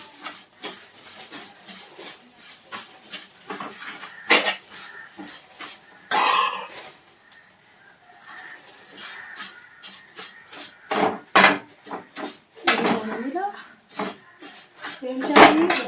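Vermicelli roasting in a pan while being stirred, with dry scraping and rasping strokes of a spoon against the metal coming in irregular bursts, close up, with some voices and a cough nearby.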